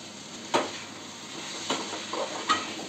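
Vegetables and pasta sautéing in a pan give a faint, steady sizzle, broken by three or four clear clacks of a spoon stirring against the pan.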